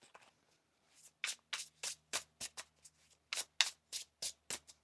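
A tarot card deck being shuffled, a run of about ten crisp riffling bursts in quick rhythm, close and clear, with no talking.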